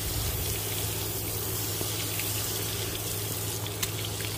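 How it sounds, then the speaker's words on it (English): Water runs steadily from a garden hose, a constant loud rushing hiss that lasts the whole stretch with no pauses. "when it's on there, just turn the water on"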